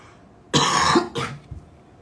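A single harsh cough-like throat clear bursts out, followed by a shorter second cough, close and fairly loud against a quiet background, during a Portuguese-language geopolitics broadcast.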